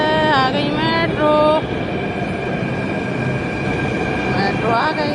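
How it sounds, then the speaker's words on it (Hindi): A metro train pulls into a station platform with a loud, steady rumble and high squealing wheel tones that bend and fade, with people talking nearby. "हम खड़े हैं मेट्रो पे, आ गई मेट्रो"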